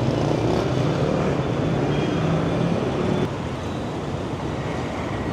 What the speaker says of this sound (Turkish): Şehrin her noktasında sürekli bir motor trafiği, araç trafiği.